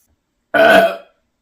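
A single loud, voiced burp lasting about half a second, close to the mic, with silence before and after.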